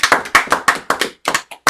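A congregation at a Sabbath service claps for a few seconds in a short burst of loud, fairly rhythmic hand claps, about eight distinct hits close together, with no talking over it.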